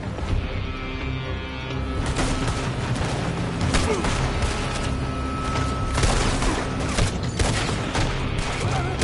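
In Red Dead Redemption 2, gunfire pours from a building as a dense, continuous fusillade of overlapping cracks and booms, loud and close, with brief voices mixed into the battle noise.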